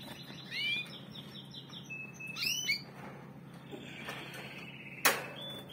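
A pet canary chirps in short, bright bursts near the start and middle, with a sharper call near the end, over a quiet indoor room background.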